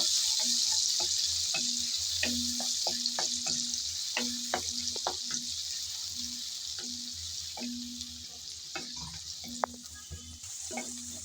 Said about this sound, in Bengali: পেঁয়াজ বাটাগুলো একটু তেলের মধ্যে ভেজে নেব